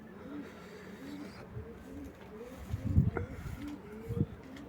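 Pigeons kept by a hobby breeder coo in soft, low, rolling calls, several birds close by, with a few louder throaty coos near the end.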